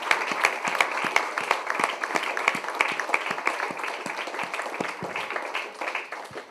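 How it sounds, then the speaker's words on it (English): A crowd at a book launch for The Unkindest Cut gives a round of applause. Busy, overlapping claps ring out close and lively, then taper slightly toward the end. "Can we just have a round of applause to this wonderful man called Sumit Mullick"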